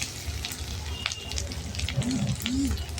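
Grated coconut sautés in a pan with fried cashews and almonds, a close, continuous sizzle with spatula scrapes and stirring clatter, while a voice speaks softly near the end.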